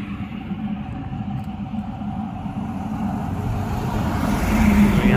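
Road traffic on a newly built, quiet road, with an occasional truck passing: a steady low engine and tyre rumble that swells gradually louder toward the end, with no talk.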